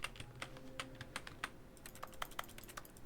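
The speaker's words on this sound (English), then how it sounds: "I'm on the keyboard again." Close, quiet typing on a computer keyboard while playing The Stanley Parable Ultra Deluxe, with irregular rapid key clicks and taps continuing throughout.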